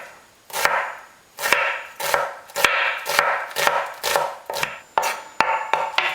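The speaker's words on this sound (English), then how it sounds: "You want to cut these as fine as you possibly can." A knife chops shallots finely on a board, eight or nine crisp, evenly spaced strikes, each followed by a short scraping rush, close and clear with no voices.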